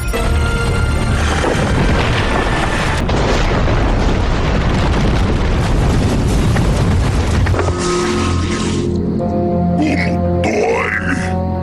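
A loud, sustained cartoon cannon explosion from Ben 10 roars and crackles for several seconds, then fades into a lower rumble with some scattered effects.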